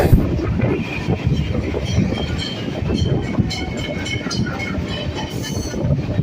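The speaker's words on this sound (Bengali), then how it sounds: "আমাদের ট্রেনটি এখন শোয়াবাজার স্টেশনে ছেড়ে দিল" Local train pulling out of Sovabazar station in Kolkata, a steady loud rumble of wheels and rail with rhythmic clatter, faint squeal and wind buffeting throughout, no speech.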